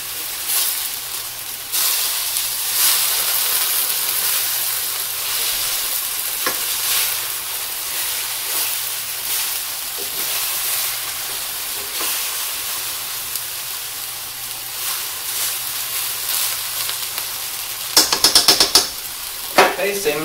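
Hashbrowns frying in a hot pan, a steady close sizzling hiss lasting throughout, with a few clinks of a utensil against the pan near the end.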